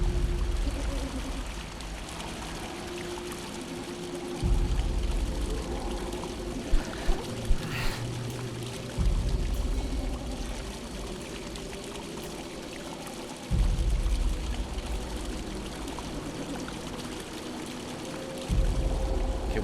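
Water poured steadily in the first-person horror game Mundaun, a continuous trickling stream with low repeating thumps underneath and a few brief clicks midway, fairly quiet throughout.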